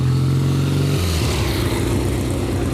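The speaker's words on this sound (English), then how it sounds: "There's an old motorbike of some sort." An old motorbike engine idles nearby in a car park, a loud low throbbing rumble that shifts pitch partway through and then runs on as a rough, uneven idle, with no talking.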